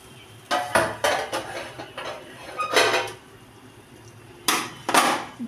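The lid comes off a cooking pot on the stove while an egg curry simmers. It gives several close metallic clanks and clatters at irregular intervals with no voices.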